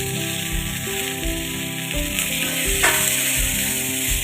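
Tomatoes with curry leaves and asafoetida frying in hot oil for a tamarind curry with elephant yam, giving a steady close sizzle that runs the whole time over soft background music, with no talking.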